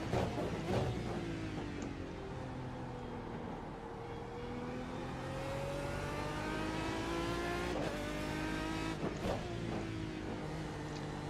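An Aston Martin DBR9 GT1 race car engine in iRacing drones and revs continuously, rising and falling through gear changes with a few sharp shift cracks, loud and unbroken throughout.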